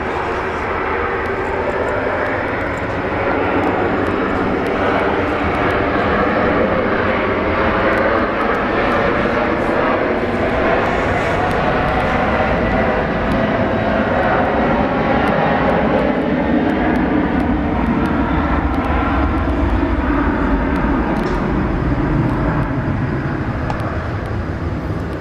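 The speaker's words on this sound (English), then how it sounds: "There's a CF6 rolling." A Cathay Pacific Boeing 747 with CF6 engines rolls for takeoff at Brisbane International Airport, a loud, steady broadband jet roar that holds for the whole stretch with only slight swells, distant and continuous.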